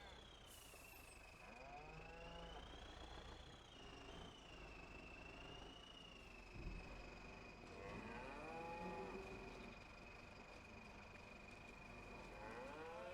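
Cows moo repeatedly in a farm video game, several drawn-out calls over a steady background drone with a continuous synthetic tone running throughout.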